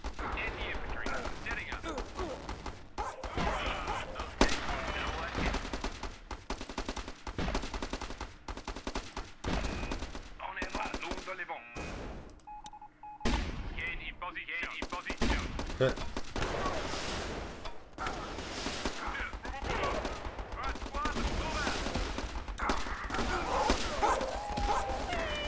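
A gun turret in the video game Battle Islands: Commanders fires in rapid, continuous bursts of shots, with dense overlapping gunfire and a brief lull midway before the barrage resumes; a voice talks at times beneath the shooting.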